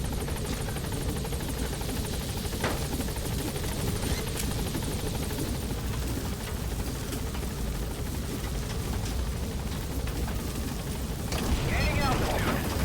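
Helicopter from the Metal Gear Solid V video game arriving at a landing zone, its steady rotor thrum and engine roar filling the whole stretch loudly, with a brief radio-style voice and a rising whoosh near the end.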